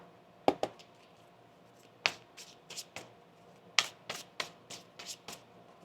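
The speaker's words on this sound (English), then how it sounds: "One more shuffle here." Cards are shuffled in a series of sharp riffling bursts, some fast and clustered, others spaced apart, close and fairly crisp with no talking.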